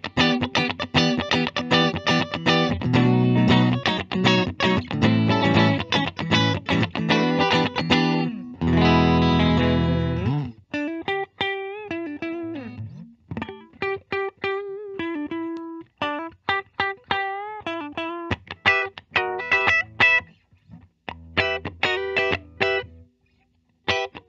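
A 2021 Fender Japan Supersonic electric guitar on its middle pickup position, with a clean, slightly hollow tone, strums chords then picks single notes and short phrases, close and fairly loud.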